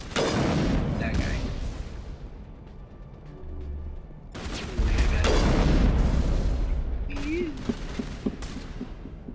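Gunfire and booming weapon blasts in the sci-fi shooter Mass Effect Legendary Edition, a dense, loud battle bed with repeated bursts, with people talking over it at times.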